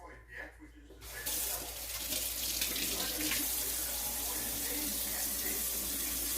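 Water runs from a tap for wetting hands while making bread dough, a steady close splashing stream that starts after a brief quiet moment.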